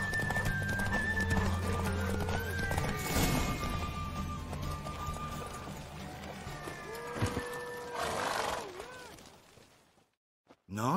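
Horses gallop in a steady clip-clop rhythm during a Witcher 3 horse race, with a loud whinny rising over the hoofbeats twice. Voices talk under the action, and the sound cuts off near the end.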